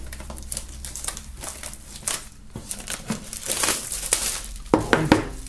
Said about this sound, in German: Wir werden das Ganze mal aus der Folie holen und dann im Detail ansehen.